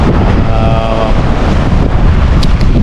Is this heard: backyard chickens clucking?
no